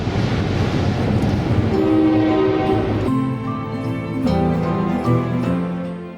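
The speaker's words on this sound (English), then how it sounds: "This train was so long it took us about 10 minutes to overtake it." Long freight train rolling past beside a coastal road, a steady continuous rumble with low tonal hums and rail noise that shifts in pitch as it goes by, loud and close throughout.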